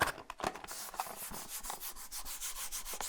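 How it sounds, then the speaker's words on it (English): Close, continuous rubbing and handling of objects with dry friction strokes and gripping noises, soft and intimate as an ASMR trigger, no talking. "rubbing, handling, and gripping items"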